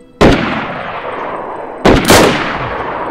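Loud rifle shots in the winter Chernarus map of DayZ: one sharp report with a long rolling echo, then after a pause two more shots close together, each followed by reverberating decay.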